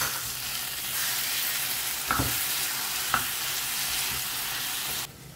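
Tomatoes cut into long slices are stirred and fried in a pan while making mutton sukka, a steady sizzle with two sharp scrapes of a spoon against the pan, fairly quiet and without talk.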